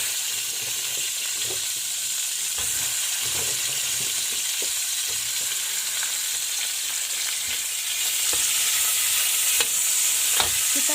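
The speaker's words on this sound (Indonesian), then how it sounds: "Kita tumis sampai matang" Broccoli florets, mushrooms and shrimp stir-fry in oil in a pan, giving a steady, dense sizzle with occasional scraping stirs and a louder hiss toward the end, close and continuous with no talking.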